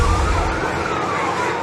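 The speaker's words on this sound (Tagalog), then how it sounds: "Doble kayod ang mga bumbero para apulahin ang sunog na sumiklab sa barangay 636 sa Santa Mesa, Maynila kahapon." A fire truck siren wails at a house fire in Santa Mesa, Manila, one loud, continuous rising and falling tone over rumbling street traffic.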